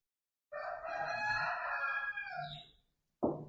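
A rooster crows once, loud and drawn out over a couple of seconds, followed by the start of another call after a short silence.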